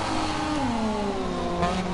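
Moto2 racing motorcycles accelerate off the start at Jerez, engine notes rising in pitch together as a layered, fairly loud revving drone that holds through the whole stretch with no talking.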